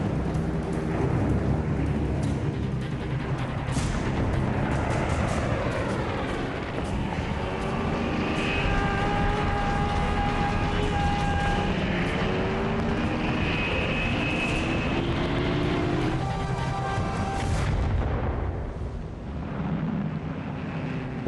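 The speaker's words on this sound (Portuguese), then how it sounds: "O avião de Seki bate contra o porta-aviões de escolta USS St. Louis." A loud, continuous aircraft engine roar of a World War II kamikaze plane attacking an escort carrier, rising and falling tonal whines, a dense rumbling din that fades slightly near the end.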